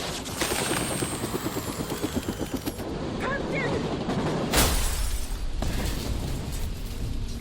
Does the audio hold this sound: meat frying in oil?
no